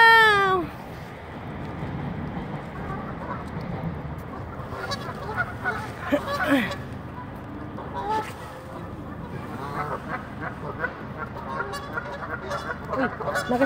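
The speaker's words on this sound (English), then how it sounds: "Come on, duckies! Yun pa marami pang papunta, oh!" A flock of ducks gives scattered honking and quacking calls outdoors, some near and some farther off, while people talk excitedly over them and a dog joins in.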